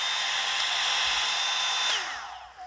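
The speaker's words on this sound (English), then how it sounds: "it's basically a hairdryer with a brush" A hot-air brush (hair dryer with brush) blows steadily with a loud, high whirring hum, then switches off and winds down near the end.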